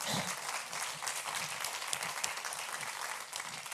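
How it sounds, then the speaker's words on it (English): A crowd applauds steadily at the Criminal Queerness Festival in New York City, a dense wash of clapping that holds evenly throughout. "We can clap for that."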